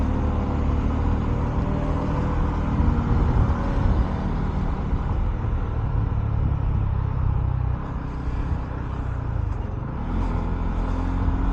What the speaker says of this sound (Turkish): Antalya trafiği.